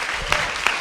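Audience applause at a public lecture honoring Roberto Bolaño, a brief dense patter of clapping from a seated crowd, fairly close and steady.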